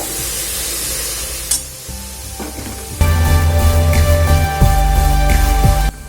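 Soybean pakora mixture sizzles loudly in a hot pan, with stirring scrapes and a few thuds as the frying grows louder partway through.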